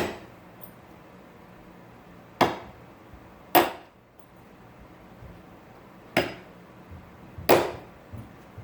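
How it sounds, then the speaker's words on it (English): Hammer tacking a beaver hide onto a wooden board: five sharp, separate knocks spaced about a second apart, close and clear over a quiet background. "Then you can just start tacking them in."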